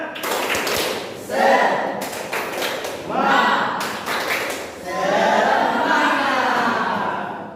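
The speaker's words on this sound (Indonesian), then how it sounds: "mari tepuk semangat" Classroom children performing a rhythmic spirit clap, sharp patterned claps in short bursts with group chanting voices in between, close and lively.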